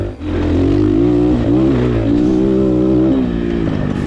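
A cheap Walmart 250cc motorcycle engine revving loudly while riding, rising and falling in pitch with gear shifts, close and continuous throughout.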